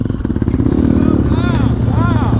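A motorcycle engine runs and revs a couple of times close by while people talk over it.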